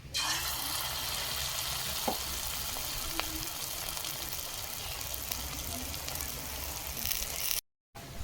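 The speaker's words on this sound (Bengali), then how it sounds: "আর এই যে দেখুন বাকিগুলো আমি ভেজে নিচ্ছি" Water lily flower fritters coated in batter fry in hot oil with a dense, continuous bubbling sizzle that stays close and steady, with a couple of faint ticks, before a brief cutout near the end.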